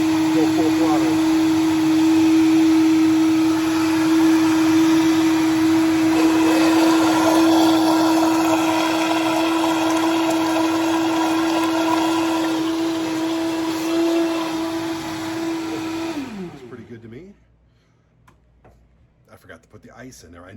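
A Vitamix blender runs at full speed with a loud, steady high whine, then winds down and stops near the end, while a person talks over it.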